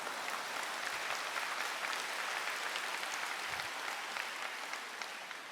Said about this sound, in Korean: 이 박수의 의미는 뭔가요?